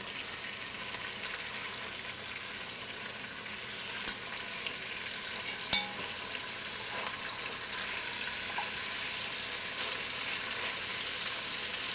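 Chicken pieces frying in a pan for coq au vin, a steady soft sizzle throughout with a sharp clink partway through.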